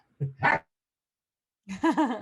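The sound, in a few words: puppy barking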